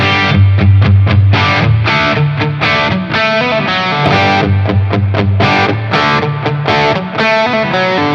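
Heavily distorted electric guitar through a Klon-style overdrive pedal in a high-gain setting plays loud, sustained palm-muted chugs and chords, with a thick, saturated tone and rhythmic stops.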